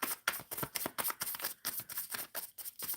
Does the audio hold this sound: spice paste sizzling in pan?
no